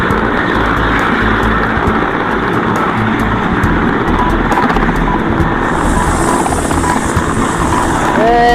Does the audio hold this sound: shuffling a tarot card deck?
no